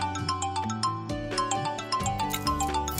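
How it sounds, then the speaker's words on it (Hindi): A phone rings with a melodic ringtone of bright chiming notes over a steady tonal backing, playing continuously and fairly loud in a domestic scene from a Pakistani drama, with no talk over it. "आपका फोन बज रहा है।"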